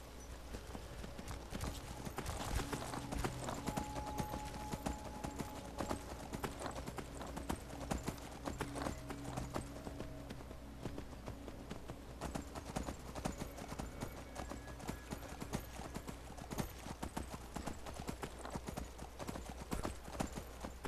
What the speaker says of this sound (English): My horse is running away.